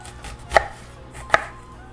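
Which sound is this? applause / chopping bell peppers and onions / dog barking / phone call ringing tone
chopping bell peppers and onions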